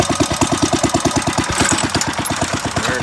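A 1931 Bready Cultimotor antique garden tractor engine thrown into gear, chugging loudly in a steady rapid rhythm of close, even firing beats with no talk over it.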